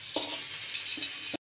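Shrimp frying in oil for Korean-style noodles, a soft continuous sizzle close by, with a couple of brief scraping stirs in the pan.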